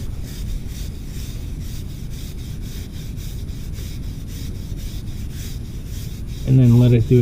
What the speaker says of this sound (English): So I'm going to scrub actually.